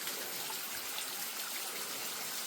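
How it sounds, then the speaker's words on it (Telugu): A small waterfall on the Ahobilam trek rushes in a steady, close, unbroken wash of falling water with no voices. "అహోబిలం ట్రెక్కింగ్ లో మనం పైకి వెళ్తుంటే మనకి చాలా చిన్న చిన్న జలపాతాలు కనబడతాయి"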